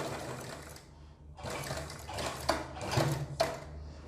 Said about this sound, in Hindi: अब इस पर भी हम सिलाई लगाएंगे।